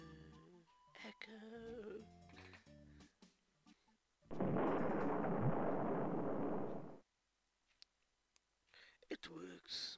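A cannon firing in the video game Monkey Island Special Edition, heard as a loud, sustained roaring blast lasting a few seconds between stretches of character dialogue.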